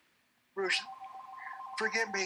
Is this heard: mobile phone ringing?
yes